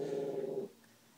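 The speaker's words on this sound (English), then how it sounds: "Sorry about my dog barking, but she sees another dog" A dog growls at another dog in one close, sustained rumbling growl that lasts under a second, then stops into quiet.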